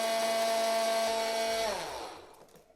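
Electric blender blitzing a dry spice mix with salt for a British-style fried chicken coating, a steady high whirring motor roar that winds down and stops near the end, with no voices.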